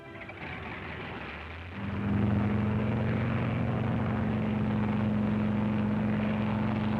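Propeller control planes revving and taking off from an aircraft carrier during the Operation Crossroads atomic bomb tests, a low steady engine drone that swells abruptly after a quieter start and holds loud and constant.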